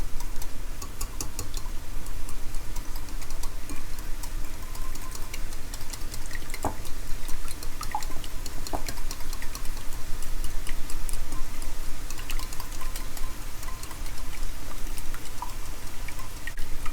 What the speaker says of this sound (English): I'm just gonna go ahead and whisk them really quick.